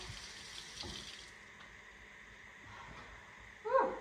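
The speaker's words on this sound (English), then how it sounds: "Wash my hands real quick." Kitchen sink tap running in a short close stream while hands are washed during tamale making, a soft continuous flow that ends with a brief louder splash.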